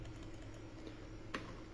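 Typing on a computer keyboard while entering an address, heard as faint, soft key taps with one slightly louder click, low in level with no speech.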